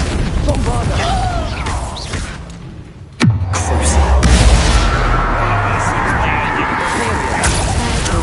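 A Bombarda blasting spell cast in a wizard video game: one sharp crack followed by a deep rolling boom and lingering rumble, loud and near, within busy game sounds and spoken voices.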